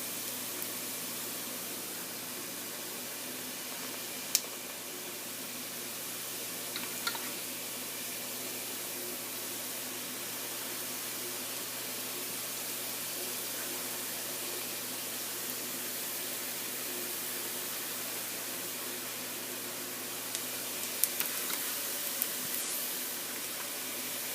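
Pakora batter drops sizzle in hot oil, a steady faint hiss of frying that runs continuously, with a few small clicks and taps from a spoon along the way.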